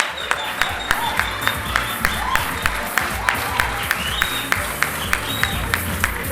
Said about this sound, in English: Can we ask everybody just to give them another round of applause